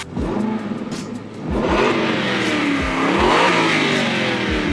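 An Aston Martin Vantage GT's 4.7-litre V8 rumbles close by, revving up repeatedly in strong surges with a deep, throaty growl.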